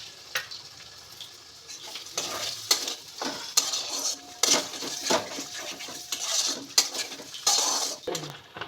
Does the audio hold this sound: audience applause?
no